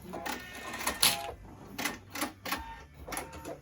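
A sewing machine runs in short reverse bursts to tie off a seam on a simple fabric mask, several quick rattling stitching runs separated by brief pauses, close and fairly quiet.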